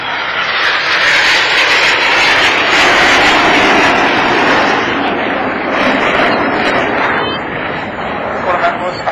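The Red Arrows synchro pair jets pass at the Southport Airshow, a loud, sustained roar that swells and slowly fades across several seconds as they fly by, dominating the scene.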